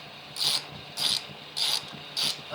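Allen bolt being loosened from the grab rail of a Honda Helix scooter while fitting a Mutarru luggage rack, giving four evenly spaced bursts of bright ratchet clicking, close and fairly loud, with no talking.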